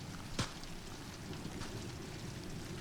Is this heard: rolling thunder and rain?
yes